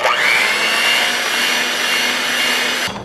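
An electric mixer whirs steadily through chocolate cake batter with a zucchini apple mixture, a loud, even motor drone that cuts off abruptly near the end.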